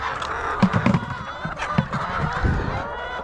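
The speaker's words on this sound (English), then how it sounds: "These geese are really like all in my face," Farm geese honk loudly and repeatedly up close at feeding time, harsh overlapping calls in irregular bursts.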